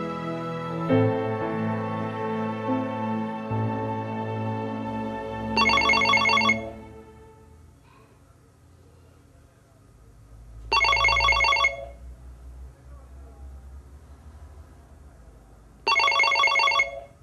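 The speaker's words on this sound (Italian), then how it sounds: "Risponde la segreteria telefonica dello studio legale Piero Danieli" Office telephone at an Italian law firm rings three times in evenly spaced bursts, loud and close, after some music fades out, before the answering machine picks up.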